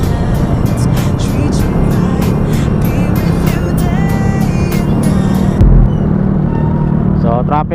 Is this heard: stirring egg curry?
no